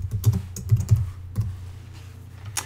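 A computer keyboard is tapped in short bursts of close, crisp keystrokes while entering text in Photoshop, quieting toward the end with no speech.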